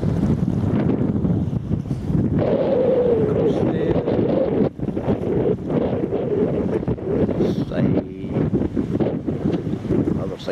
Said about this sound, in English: the wind's coming right at me